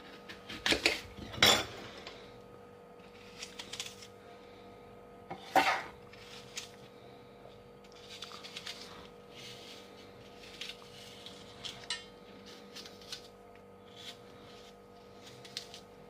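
Peeled apples being cored with a metal utensil, heard as a series of close scraping and clinking strokes against a dish, with two louder knocks early on and lighter irregular scrapes after.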